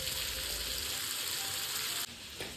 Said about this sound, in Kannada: ಈರುಳ್ಳಿ ಎಲ್ಲ ಚೆನ್ನಾಗಿ ಎಣ್ಣೆಲಿ ಫ್ರೈ ಆದಮೇಲೆ ನಾನು ಟೊಮೊಟೊನ ಚಾಪ್ ಮಾಡ್ಕೊಂಡಿರ್ತೀನಿ, ನಾನು ಆ್ಯಡ್ ಮಾಡ್ತೀನಿ.